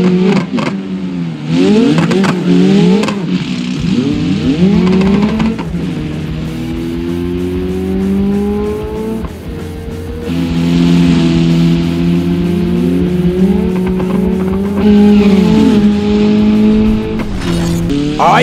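A monster truck in BeamNG Drive revs hard and drives, its engine rising and falling in loud surges with gear changes, near and dominant throughout.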